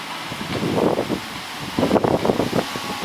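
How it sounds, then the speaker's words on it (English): Wind gusts rush and buffet the microphone in two swelling bursts, with a brief lull between them and no voices. "It's really windy tonight."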